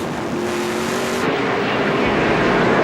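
Onboard the 22 Canadian Tire Dodge race car on a road course at the 2010 Canadian Tire 100, the engine roaring loud and steady as it rises in pitch, with a whooshing rush of wind throughout.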